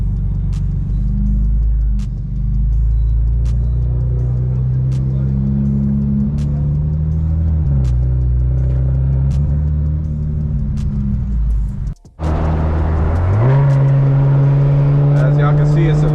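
A straight-piped single turbo BMW N54 335i drives with a constant loud, deep engine drone and rising and falling pitch as it accelerates. A brief lift near the middle is followed by a sharp rise, with talking inside the car over it.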